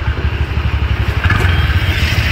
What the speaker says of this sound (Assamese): বাইক চলাই থকা ল'ৰা এতিয়া আমাৰ স্কুটি চলাই আছে